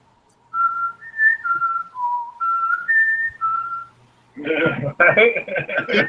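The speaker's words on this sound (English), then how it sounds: "when we're waiting on somebody, I start whistling" A person whistles a short tune of clear sustained notes, then voices begin talking right after.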